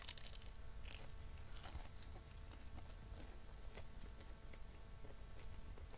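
Crunchy chicken wings being chewed close up, a quiet series of irregular crisp bites and crunches with soft mouth noises, no talking.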